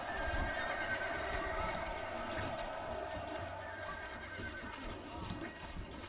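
Horses whinny and neigh amid a dense, busy battle din in the strategy game Stronghold Crusader, with horse archers, hooves clattering and a constant rumble of activity throughout.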